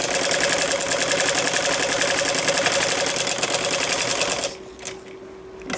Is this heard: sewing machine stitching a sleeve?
yes